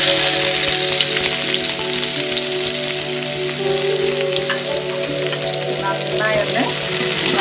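Two large sliced onions fry with a loud, steady sizzle in a pan for kuska biryani, with a brief spoken word over the constant crackle.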